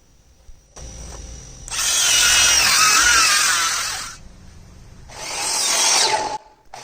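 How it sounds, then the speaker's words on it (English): A power saw cuts 45-degree angles into wood for the top trim of a DIY planter box, giving two loud, close whining passes of a few seconds each, separated by a quieter idle hum. "We cut 45-degree angles into the wood to create a top trim piece"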